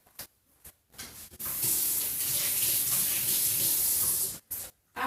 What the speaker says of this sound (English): I'm getting some water.